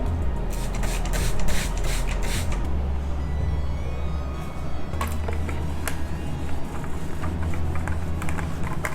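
A classroom board is rubbed to erase writing, giving close, repeated scrubbing strokes in bursts over a constant low background hum.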